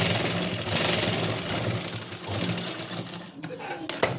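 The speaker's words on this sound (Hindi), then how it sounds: "इस तरह से बिल्कुल आराम से आपको सिलाई लगानी है।" Sewing machine stitching salwar fabric alongside buckram, a fast rattling mechanical run that slows and stops partway, followed by brief clicks and handling noises up close.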